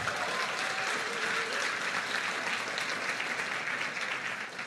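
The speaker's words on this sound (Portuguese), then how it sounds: "Então aplauda o Senhor Jesus." A church congregation applauds steadily during a sermon, a dense wash of clapping that holds at full strength before easing slightly at the very end.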